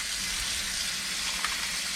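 Running water from a faucet rinses romaine lettuce, a steady, even hiss with a faint splash near the end.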